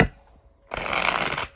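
A brief, riffling burst of tarot cards being shuffled, close and fairly loud, lasting under a second after a short pause.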